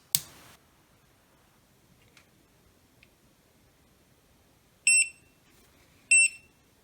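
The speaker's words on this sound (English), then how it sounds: "Well, it went beep, it came on" An AIXUN T3A soldering station under repair beeps as it powers on: two short, clear electronic beeps a second apart, preceded by a brief burst of noise and faint clicks in a quiet room.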